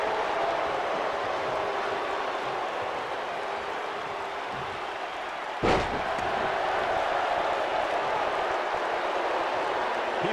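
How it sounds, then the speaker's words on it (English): A wrestling arena crowd roars in a steady, distant wash of cheering throughout, broken once by a sharp slam from the ring. "by the sound of this crowd, I think they're getting what they wanted"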